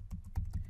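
Typing on a computer keyboard: four or five faint, quick key clicks in under a second, close and quiet, with no voice.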